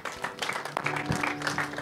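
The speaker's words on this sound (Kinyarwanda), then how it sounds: "Twongere dukomere Imana amashyi menshi cyane." Faint, brief applause from guests at a birthday celebration, a soft patter of clapping with murmuring voices underneath, lasting under two seconds.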